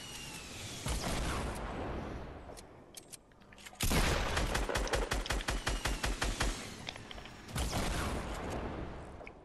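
Bursts of rapid gunfire from the video game Fortnite, with rhythmic volleys of sharp shots repeating in clusters separated by short lulls.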